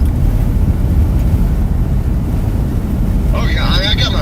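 Wind buffets through an open car window while driving near a major wildfire in the Oklahoma Panhandle. It makes a loud, constant low rumble and roar, with a brief voice-like sound near the end.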